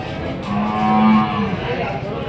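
Buffaloes at a livestock market in Vikarabad, with one long, low moo sounding close and loud over a steady crowd murmur, and no clear speech on top.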